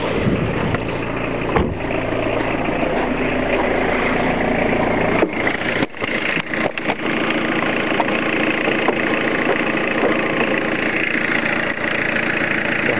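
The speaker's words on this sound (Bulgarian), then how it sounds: "Двигателя работи добре, няма шумове" A car engine idles steadily at close range in near-freezing cold around 1°C with the hood up, a continuous low rumble with a brief knock or shift partway through, no voices.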